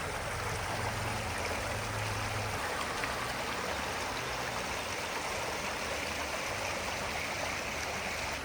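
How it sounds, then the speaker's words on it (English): Baskin Creek flowing past a motel in Gatlinburg, Tennessee, a steady close rush and babble of creek water running over rocks, continuous and even throughout with no voices. "Walking along Baskin's Creek"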